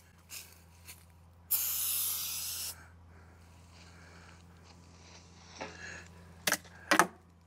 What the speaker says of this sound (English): I'll get some ether and spray them.